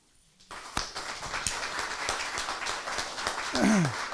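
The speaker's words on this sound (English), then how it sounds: "I request all of you to give a round of applause for Salim" Audience applause for a speaker after a talk, starting abruptly from silence and continuing as steady, moderately distant clapping with a few sharper claps, and a brief whistle-like tone near the end.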